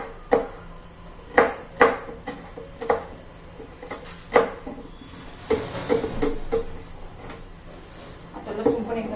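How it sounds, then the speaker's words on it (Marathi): A knife finely chops green chillies on a board as a home cook prepares a village-style capsicum stir-fry, a dozen or so sharp, irregular taps close by, with a low voice between them. "ह्या पण एकदम अशा बारीक चिरून घ्यायच्या"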